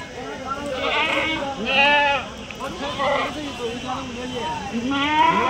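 Several goats bleat over and over at a busy Tuesday livestock market in Kadiri, and their cries overlap with people talking nearby.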